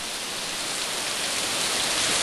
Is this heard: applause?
no